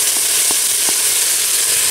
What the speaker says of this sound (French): je fais colorer mes morceaux de viande encore pendant 2-3 minutes sur tous les côtés